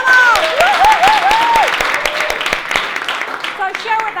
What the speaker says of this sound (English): Let's give Samir and Chris a big round of applause.